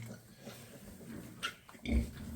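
Sow nursing her piglets on a pig farm, with soft grunts and a louder oink-like squeal near the end over a low background hum.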